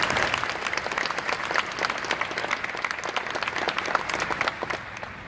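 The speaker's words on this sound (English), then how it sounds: "Give yourselves a round of applause." A large conference audience of educators applauds, a dense and even wash of many hands clapping at moderate loudness for several seconds, fading slightly at the end with no speech over it.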